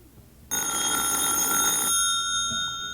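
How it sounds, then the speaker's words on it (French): A telephone bell rings loudly and steadily, a continuous electric trill that starts abruptly after a short quiet moment and carries on without a break. "C'est le téléphone."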